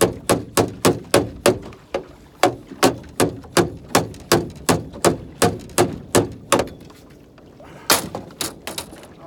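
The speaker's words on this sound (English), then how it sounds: "Let's beat the boat, stir them up." About twenty sharp knocks on a fishing boat hull on Lake Monticello in subfreezing weather, struck to stir up fish. The hits come fast in a steady rhythm, pause briefly, then resume as a few more quick blows.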